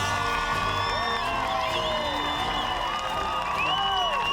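A studio crowd at Australian Ninja Warrior roars and whoops for a barefoot competitor after his record run, with high swooping cheers and shouts rising over a dense, continuous wall of noise.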